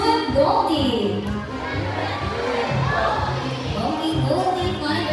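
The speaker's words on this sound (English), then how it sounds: "Let me hear you cheer." An audience at a bird show in Cebu shouts and cheers in bursts with a mix of children's voices, close and lively, and people talk over it.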